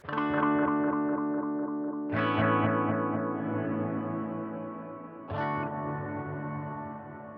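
Electric guitar chords ringing through heavy sweep echo and reverb from a Line 6 HX Stomp, three strums several seconds apart, each decaying into a long shimmering wash of repeats.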